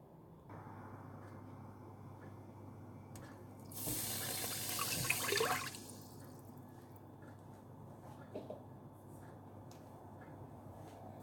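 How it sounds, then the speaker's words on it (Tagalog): Water pours into a cooking pot for a crab and bamboo shoot coconut stew, a loud rushing splash rising and falling over about two seconds amid quiet kitchen hum. "Naglagay ako ng tubig"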